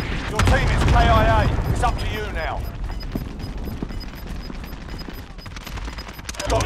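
Rapid gunfire crackles through a Call of Duty: Modern Warfare match, dense bursts of shots fairly close and loud, with voices talking over the opening seconds and steady battle noise throughout.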